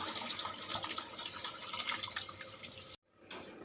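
Water boiling in a pot for chicken dum biryani, a quiet close bubbling with dense popping and dripping textures that stops abruptly near the end before a faint return.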